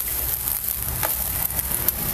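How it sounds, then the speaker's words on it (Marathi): Oil-brushed paratha roasting on a pan, a steady faint sizzle with small crackles, close and unbroken, no voices. "ह्याला सुद्धा आपल्याला ना तेल लावून घ्यायचं आहे सगळी बाजूनं आणि चांगलं असं आपल्याला हे भाजून घ्यायचं आहे"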